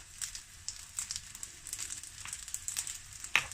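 Fried rice with oyster sauce being stirred in a hot pan, quiet crackling sizzle with light scraping strokes of a spatula, close and faint.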